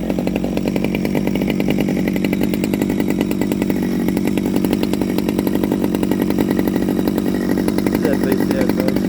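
A Stihl 009L chainsaw with a standard carburettor cutting hardwood, a loud continuous buzzing rasp held steady at high revs for the whole stretch, close by with no break.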